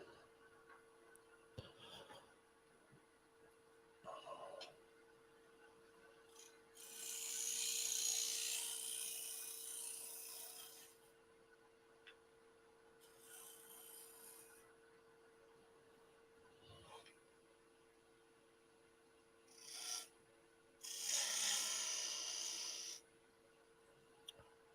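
A wood lathe cuts a bead near a tenon, with bursts of scraping and cutting spaced over a faint steady motor hum.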